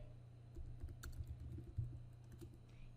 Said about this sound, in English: type a name for it